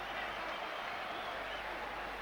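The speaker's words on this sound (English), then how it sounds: "And what a reception from this Albert Hall crowd." Albert Hall boxing crowd applauding at the end of a fight, a steady, dense wash of clapping and crowd noise filling the hall without a break.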